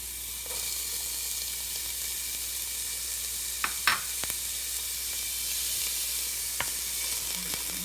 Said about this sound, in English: I'm just going to put my onions in here, like we did with the peas.